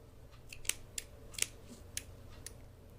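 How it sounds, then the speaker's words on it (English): Several crisp scissor snips cutting yarn in an uneven rhythm, close and fairly quiet, with no voices. "the scissors don't want to work."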